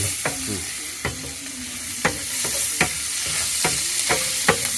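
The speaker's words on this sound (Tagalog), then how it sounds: "Igisa natin yung ating uh, bawang at sibuyas guys." Garlic and onion sauté in butter left from frying chicken, a bright continuous sizzle punctuated by regular sharp spatula taps and scrapes against the pan, close up with no voices.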